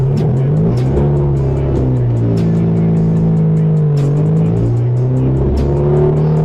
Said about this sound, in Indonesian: Ini benar-benar mobil yang raw, berisik, tapi kencang dan enak.